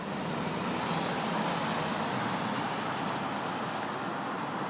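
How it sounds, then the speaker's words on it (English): A parked car idles on a Seattle street, giving a steady, even engine hum and road noise with no break and no voices. "Running car."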